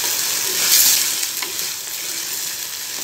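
Prawns and onions sautéing in a pan for prawn thokku give a bright, dense hiss of frying that swells briefly and then settles into an even, close sizzle.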